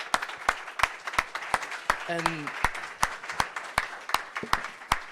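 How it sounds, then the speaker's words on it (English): Scattered claps from an audience at a Bitcoin hackathon finalist presentation, a sparse, fairly regular patter of individual hands near the microphone, with a brief spoken word partway through. "a round of applause for all of you for making this happen"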